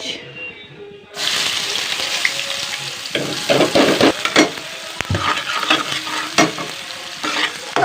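Chopped onions dropped into hot oil with asafoetida, bursting into a loud, steady sizzle after a quiet start, with close stirring scrapes and crackling pops throughout.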